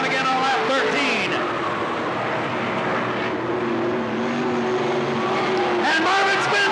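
Race cars roar around the oval at Riverside Speedway (Cottage Grove Speedway) during a 1991 short-track race, engines droning continuously and swelling as the pack passes, with a commentator talking over the racket.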